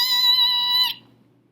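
Car brakes squealing as a car stops quickly, imitated by a voice as one steady, piercing high-pitched squeal of nearly a second that cuts off abruptly, close and alone.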